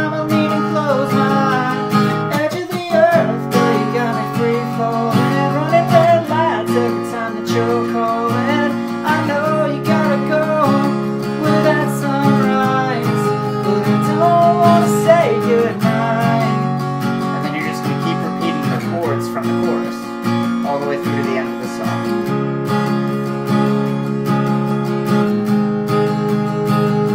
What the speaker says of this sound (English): we're just going to strum it through like normal